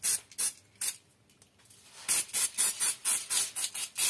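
Velvet spray hisses onto a cold strawberry-raspberry-matcha Valentine heart dessert in short bursts: a few separate sprays, a pause, then a rapid run of about ten close, fairly loud puffs.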